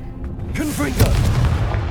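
The Confringo fire spell goes off in Hogwarts Legacy as a deep, rumbling boom that swells and lingers for about a second, preceded by a few short whooshing tones.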